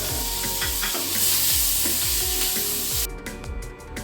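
Sliced onion and three to four garlic cloves fry in hot oil in a pan that was used for frying pumpkin pieces, giving a steady close sizzle with a few stirring knocks before the hiss abruptly thins out.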